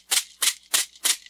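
A maraca with a leather bulb and wood handle is shaken in four evenly spaced strokes, each a soft, dark, rattling swish, close and alone.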